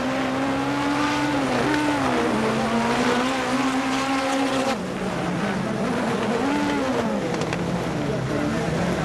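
A Peugeot 205 or Lancia Delta rally car at the 1988 Race of Champions final, its engine held at high revs with rising and falling pitch through the corners, loud and continuous, with a commentator talking over it.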